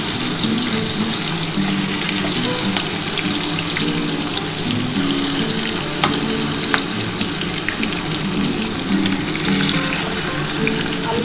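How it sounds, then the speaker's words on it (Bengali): Prawns frying in hot oil for a Bengali chingri malaikari, a steady dense sizzle and crackle running continuously at close range, with faint clinks of stirring and no talking. "এবার আমি মাছগুলো ভেজে নিই"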